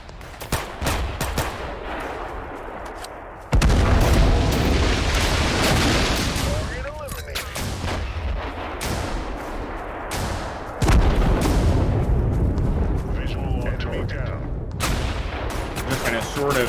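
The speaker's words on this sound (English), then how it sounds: "See how devastating that artillery is. I mean, it is dropping right on top of us." An artillery barrage in a modern war shooter lands right on top of the player's position: heavy booms and roaring blasts in dense waves, loud and close, with sharp impacts and crackling gunfire, while someone talks over it.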